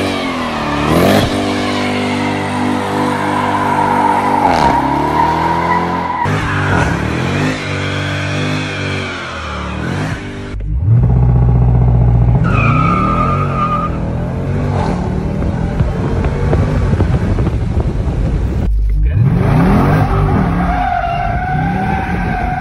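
A Jeep Trackhawk with a 707-horsepower Hellcat engine revs and accelerates hard, loud and close, with rising and falling sweeps, tire squeal and gear changes over about twenty seconds.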